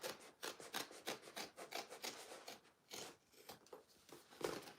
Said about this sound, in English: I'm going to just start right here and trim my seams